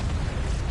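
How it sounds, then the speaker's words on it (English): A fiery explosion in the video game Final Fantasy 16, a loud, low rumbling boom that fills the short moment with heavy noise. "And kaboom."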